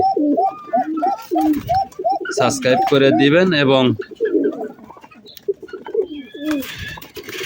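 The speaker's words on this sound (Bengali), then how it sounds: "এই যে আমার কবুতর" Pigeons of a high-flying breed cooing in repeated soft rolling calls close by, with someone talking loudly over part of the cooing.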